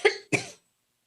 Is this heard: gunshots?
no